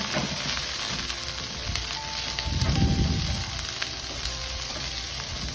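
White onions sizzle in leftover beef oil, a steady close hiss of frying with a short swell of louder crackling partway through as they are stirred.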